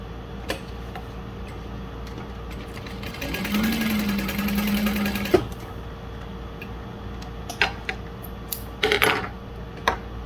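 A Juki DU-1181N industrial sewing machine runs a short burst of fast, even stitching through cork, with a steady mechanical hum. Scattered clicks and handling taps follow in a quiet room.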